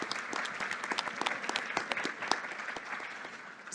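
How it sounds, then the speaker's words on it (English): An audience applauds panelists at a judicial summit on mental health: steady, dense clapping from a room full of people, fairly close and even throughout, with a few sharper individual claps standing out and no talk over it. "let's give applause to the panelists"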